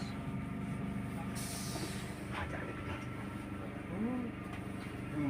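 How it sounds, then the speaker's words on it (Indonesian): Interior of a moving passenger train with a constant rolling rumble of the carriage and occasional faint squeals, voices murmuring in the background. "Situasi di dalam kereta api."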